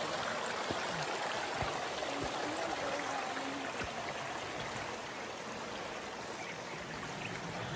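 A creek on a Mount Diablo hiking trail rushes and burbles steadily close by, a loud, dense wash of flowing water with faint footsteps and thuds now and then.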